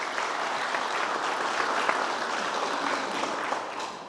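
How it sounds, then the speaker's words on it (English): An audience at a school building dedication ceremony applauds for the band students, a steady sustained clapping from a crowd in a large room that carries on for several seconds. "Let's give a round of applause for our band students"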